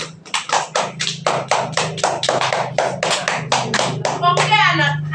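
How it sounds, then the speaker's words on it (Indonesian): A classroom group claps hands in a quick, steady rhythm of sharp distinct bursts, loud and close, ending in a brief ragged flurry. "Tepuk tangan dulu untuk kita semua."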